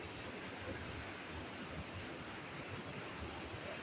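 Strong rushing water from a rocky mountain stream near underground caves, a dense continuous roar with no breaks, heard close and loud.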